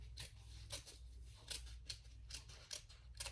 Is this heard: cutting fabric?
yes